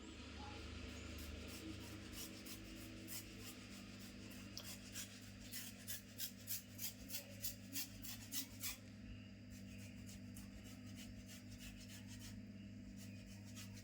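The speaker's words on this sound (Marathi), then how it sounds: "आता मस्त ते थंड झालेत तर ते आता किसून घेते ह्याच्यामध्येच." Boiled potatoes grated by hand on a fine grater, giving a steady close rasping scrape with a run of rhythmic strokes in the middle, no talking.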